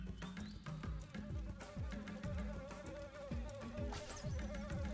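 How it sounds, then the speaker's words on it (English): Buzzing bees in the video game TimeSplitters; a thin whining insect drone runs under a busy mix of repeated thumping game effects and sweeping tones, with no talking. "Nice, let's kill the innocent bees."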